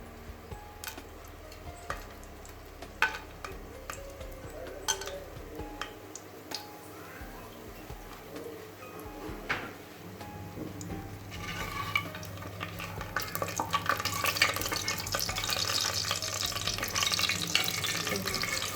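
Whole spices, including bay leaf and stone flower, are added to hot oil for mutton biryani; after scattered clinks and taps the sizzle rises into a loud, steady crackling hiss with occasional stirring.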